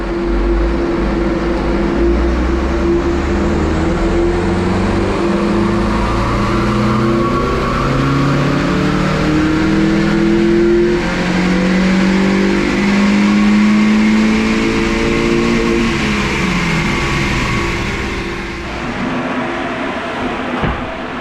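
Mazda MX-5 engine revving hard on a dyno, a loud close engine note climbing and falling through repeated sweeps before easing off near the end, with no talk.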